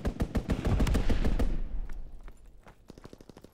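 A WWII fighter plane strafes a target in Call of Duty: WWII with a dense, rapid burst of machine-gun fire, close and loud, then the shots thin out into scattered distant cracks and echoes.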